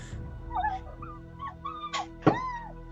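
A person imitates a dog whining in pain, a string of short rising and falling whimpers and yelps, close and fairly loud, ending in a sharper yelp.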